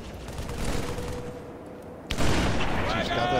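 Gunfire in Halo 3, a steady rattle of shots that drops off midway, then returns louder with a sharp burst of weapon fire, with voices talking over the fighting.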